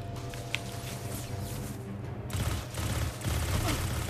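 Rapid gunfire with heavy recoil in the Destiny 2 video game, a dense continuous burst of shots over game ambience, loud and steady throughout.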